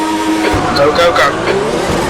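Racing cars launch together from a standing start at Spielberg in the Automobilist sim game, engines revving loudly with tire squeal, while a commentator talks over the roar throughout.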